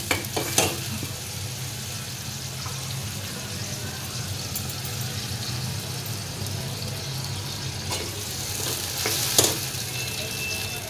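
Tomato puree sizzles in a small iron kadai, a steady near frying hiss with a few sharp utensil clinks near the start and again toward the end.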